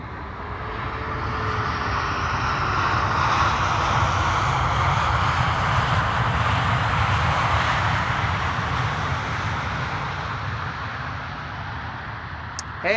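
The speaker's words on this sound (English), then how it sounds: "Red Wine Express arriving from Bordeaux, E2 Embraer 195 over here," An Embraer E2 195 airliner landing at Amsterdam Schiphol produces a steady, broad engine roar that swells and holds at a constant loudness for the whole stretch, fairly close, with no talking over it.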